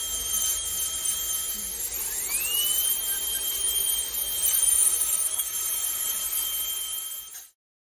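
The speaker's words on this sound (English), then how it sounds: "we are going to grind them, and this will be bone for bone grafting." A small high-speed grinder whines steadily while pulverizing extracted teeth into bone graft material in a dental setting, its pitch rising as it spins up, then cutting off abruptly near the end.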